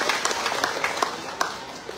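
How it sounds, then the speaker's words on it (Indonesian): A Parti Warisan political rally crowd in Tungku, Lahad Datu, Sabah, claps in a light, scattered burst, individual hand claps popping irregularly over a soft murmur of background noise. "Bagi tepukan kepada warga itu."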